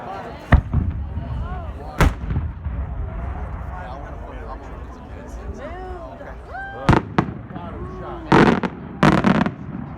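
A 6-inch member-made firework shell at a daylight show breaks into a spiral and rings of reports: scattered sharp cracks, with a tight cluster of bangs near the end, under someone talking.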